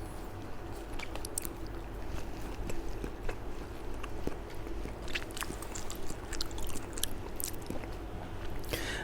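Close, wet chewing and biting of tender, savory chicken meat from a boxed rice meal, steady soft mastication with small crunches and squishes throughout, no talking.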